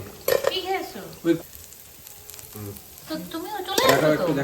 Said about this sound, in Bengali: সুন্দর মাছগুলো ভাজা হয়েছে একদম সেই কালারটাই আলাদা কড়া কড়া মাছ